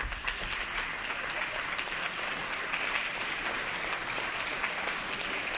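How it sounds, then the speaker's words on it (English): Legislators on a state assembly floor give a sustained round of applause for a visiting school chess team, steady dense clapping in a large chamber for several seconds. "can we get a round of applause for Mendota chess team?"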